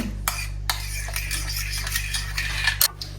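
A spoon mixing honey into Greek yogurt in a bowl, a few light clinks and taps against the dish over a soft scraping stir, close and brief, with a low steady hum beneath and no talking.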